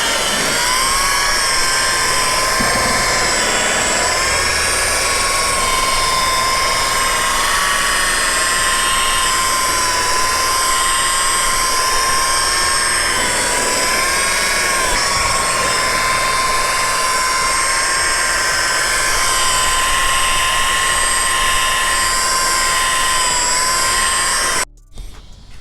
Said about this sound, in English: I'm gonna kick it up to 1000 RPM. Make sure your rotary has an adjustable speed.